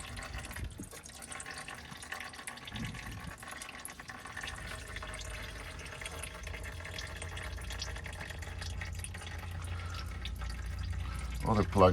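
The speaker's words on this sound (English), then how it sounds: "we're gonna let that drain for a little bit" Transfer case oil from a 2017 Ford F250 draining steadily from the drain hole, a continuous low trickle and patter that stays even for the whole stretch, fairly faint against a quiet background.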